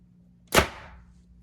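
An arrow is shot from a bow through a sheet of paper, giving one sharp, close snap that decays quickly in a brief swishing tail after a quiet pause.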